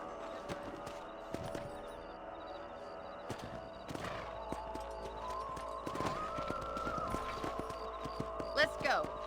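Horse hooves clip-clopping while riding in the Red Dead Redemption video game, a faint rhythmic trot under ongoing game music and character voices, with a short neigh near the end.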